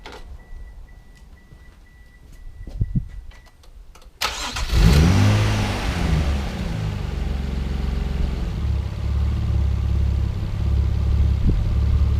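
A Mazda V6 car engine cranks with a few faint clicks, catches abruptly and then settles into a steady, even idle, close and fairly loud, with no talking.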